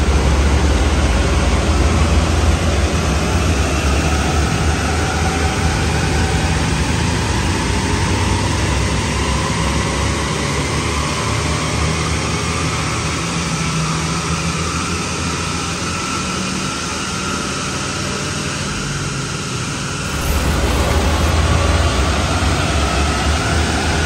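A VW Up TSI turbo engine accelerates, heard from inside the cabin as a loud, continuous drone. Its pitch climbs steadily for about twenty seconds, then drops briefly as the throttle lifts before picking up again. No talking.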